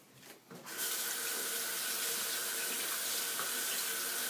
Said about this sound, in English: I hope you're allowed to wash these sponges, because I'm doing that right now